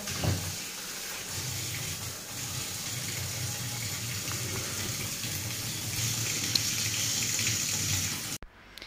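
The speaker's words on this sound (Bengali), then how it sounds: "দেখো মাছ কটা ধুয়ে নিই" Tap water runs steadily into a sink while small fish are rinsed, a continuous close splashing stream with slight shifts as hands move the fish, ending abruptly.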